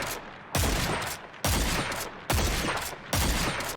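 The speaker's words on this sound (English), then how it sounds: "The gun seems to like to drift off to the left after each shot," Four heavy gunshots from the Dead Man's Tale exotic gun in Destiny 2, fired at a steady rhythm just under a second apart, each a loud booming blast with a trailing echo.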